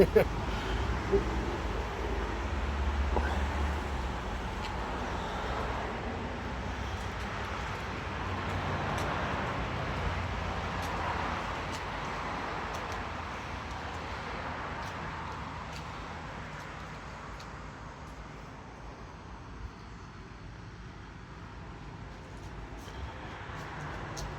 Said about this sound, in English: Of course, when you're trying to video something, there's lots of traffic and noise